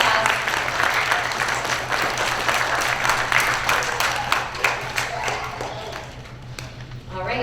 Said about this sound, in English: Let's give Pooh a big round of applause.